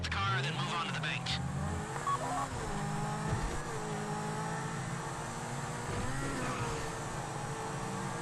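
A car drives in the video game GTA 5 during a Fleeca bank heist, its engine revving and shifting steadily throughout, with tire noise and voices talking over it.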